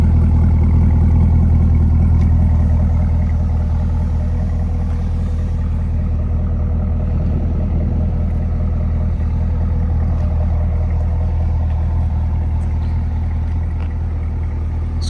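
A 2021 Chevy Camaro ZL1 1LE runs through its bone-stock factory exhaust, a loud, steady low idle that holds nearly constant throughout with no talking.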